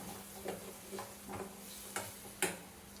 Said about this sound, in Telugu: మీకు రుచి తగినట్లు కారం పసుపు ధనియా పొడి వేసుకోండి ఫ్రెండ్స్ ఒక టూ మినిట్స్ ఇలా ఫ్రై చేసుకోవాలి